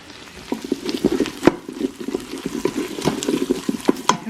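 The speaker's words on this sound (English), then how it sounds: "We're gonna cook this tomato paste down some." Onion and tomato paste cook in butter in a pot for sloppy joe meat with ground beef, giving a steady close sizzle with repeated stirring scrapes and clicks of a utensil, no voices.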